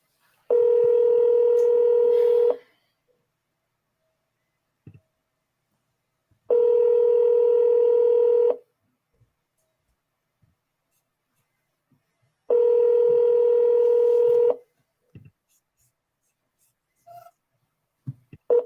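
A telephone ringback tone repeats three times at regular intervals, each burst about two seconds long, separated by quiet pauses with faint clicks.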